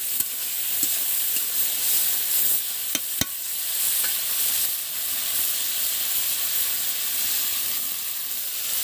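Cauliflower, potato and peas being stirred in a hot pan with oil, a continuous sizzling hiss broken by a few sharp scraping clicks of the spatula against the pan.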